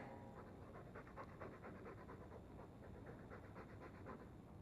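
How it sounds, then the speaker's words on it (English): A dog panting in the video game Dragon Age, quick rhythmic breathy huffs repeating steadily, close and fairly quiet, with no talk over it. "All that noisy dog breath, day in, day out"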